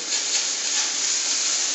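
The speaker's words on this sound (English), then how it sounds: "I got the bacon in the pan, getting crispy" Bacon cubes sizzling in a pan, a steady bright frying hiss that stays even and continuous throughout, close up with no talk over it.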